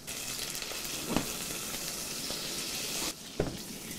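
Turkey escalopes pan-fry with thyme, crushed garlic and a knob of butter, giving a steady close sizzle and crackle with a couple of sharp clinks and a brief dip in the hiss.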